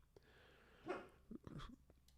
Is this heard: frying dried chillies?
no